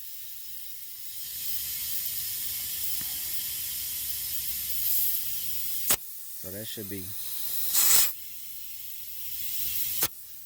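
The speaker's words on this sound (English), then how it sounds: "you can get some air coming out" Compressed air hisses steadily out of an opened valve, a loud, continuous broadband rush lasting several seconds, with a brief spoken word, a few sharp clicks and a short burst of talk partway through.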